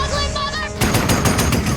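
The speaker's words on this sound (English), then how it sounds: "they used the sound of gunfire to censor an F-bomb" A burst of gunfire sound effect dubbed over dialogue in the theatrical cut of Sucker Punch, rapid repeated shots cutting in abruptly after a line of speech and rattling loudly to the end.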